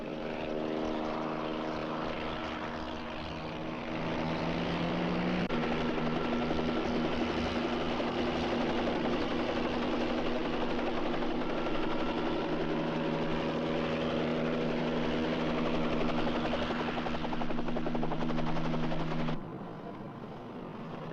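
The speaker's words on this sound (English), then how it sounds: "The helicopter's onto us." A helicopter drones loudly and steadily overhead, its rotor and engine tones holding for the whole stretch before easing off near the end.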